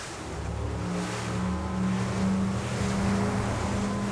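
A motorboat with two 600-horsepower-class outboards (1,200 hp total, four propellers) accelerates to plane on a sea trial, engine droning steadily and building in intensity, with a constant low hum and rushing water noise throughout.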